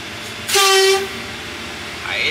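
Express parcel freight train No. 985, running from Hua Hin to Chumphon, sounds a brief loud horn blast over ongoing wheel and carriage rumble, with a squealing tone toward the end.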